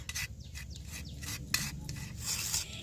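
Coffee powder being rubbed and mixed into flour by hand, heard as repeated close, soft rasping strokes in a quick uneven rhythm with a low background rumble.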